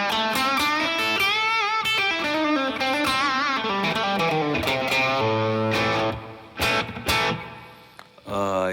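Distorted electric guitar on the bridge pickup through a Valeton GP-200 multi-effects processor's distortion pedal, playing a run of sustained chords and notes, gritty and loud, with a few sharp strums near the end.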